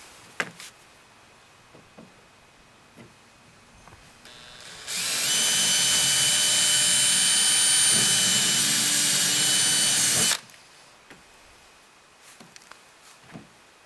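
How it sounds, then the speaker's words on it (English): A power drill with a 3/32 inch bit boring pilot holes in an Ikea cabinet runs in one loud, steady whine for about five seconds, preceded and followed by quiet handling clicks and taps. "I've got a 3/32 inch drill bit to drill pilot holes"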